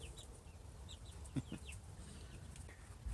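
Small chickens, the owner's little birds, clucking in a coop, a few faint chirpy calls and soft clucks scattered over a quiet background, with one brief louder knock.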